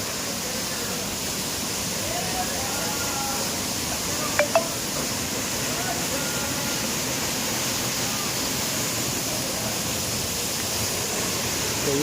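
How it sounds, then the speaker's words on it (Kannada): Apsarakonda waterfall near Honnavar pours as a steady, even rush of falling water that fills the whole stretch without a break, with only a brief faint tap near the middle. "ಅಪ್ಸರಕೊಂಡ ಫಾಲ್ಸ್"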